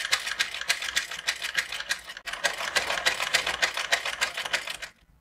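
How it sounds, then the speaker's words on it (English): Sewing machine topstitching crinoline to an organza peplum for a children's ball dress, a fast steady whir of stitching in two bursts separated by a brief pause, close and alone before stopping. "That is why I am stitching very close to our initial seam."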